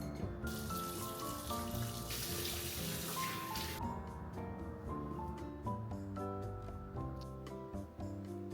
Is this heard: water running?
yes